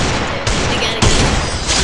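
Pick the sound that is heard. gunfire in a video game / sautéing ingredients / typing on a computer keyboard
gunfire in a video game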